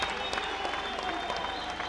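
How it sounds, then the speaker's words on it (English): A crowd at a kickboxing event applauds fighter Stan Longinidis, a dense, steady roar of clapping that holds at full strength for the whole stretch. "give this man a round of applause"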